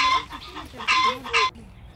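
Chickens cluck at the coop behind a farmhouse at Ardenwood farm, where hens lay and sit on eggs: a few loud, close bursts of clucking and squawks with quieter murmuring between them, then the sound drops away.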